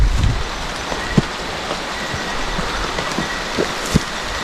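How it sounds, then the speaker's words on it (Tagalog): Heavy rain pours in a continuous loud roar, with occasional dull thuds breaking through the steady wash of falling water. "Ang lakas talaga ng ulan."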